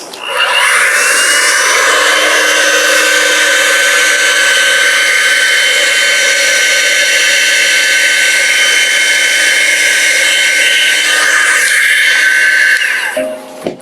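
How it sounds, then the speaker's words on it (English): A small air blower used to push paint for a bloom technique pours out a loud, steady whooshing hiss close by, holding constant for over ten seconds before cutting off. "This time I'm going to use this blower."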